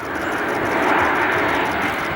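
Airbus A350-1000 airliner in a flying display at the Farnborough Airshow, on approach before a go-around, producing a continuous broad jet-engine roar that swells slightly and holds at a distance, with no talk over it.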